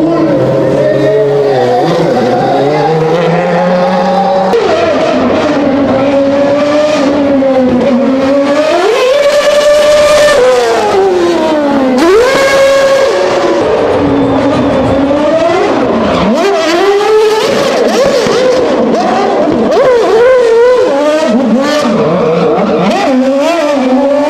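Race cars speeding around a 1.2-kilometre course set up in Mexico City's Zócalo, engines loudly revving and sweeping up and down in pitch as they pass, continuous and close with crowd noise beneath.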